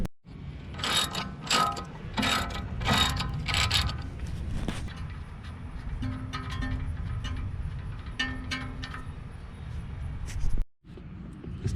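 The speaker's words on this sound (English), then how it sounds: "Use 17 millimeter breaker bar to break that loose." A 17 mm breaker bar working loose a suspension bolt during a strut and control arm job, giving repeated close ratcheting clicks and metallic clunks, loud and busy throughout, with a brief pause near the end.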